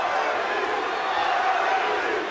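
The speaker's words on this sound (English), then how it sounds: "the crowd chanting both Cabbage and Butterbean" A crowd at an MMA fight chants and roars for the fighters Cabbage and Butterbean, a loud, sustained, echoing arena din of massed voices.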